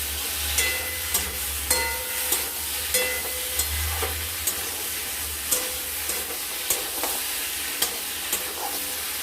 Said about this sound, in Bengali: এটা এখন ভালো মতো করে আমরা ঝিঙে আলুটাকে মশলার সাথে ভালো মতো করে কষে নেব।